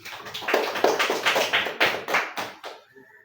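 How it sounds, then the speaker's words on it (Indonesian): An audience of schoolchildren claps together in a short burst of applause, about three seconds of close, lively clapping that fades out, with no talking. "Kasih aplaus lagi."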